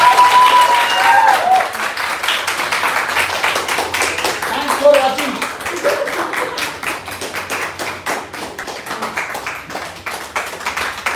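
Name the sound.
loud applause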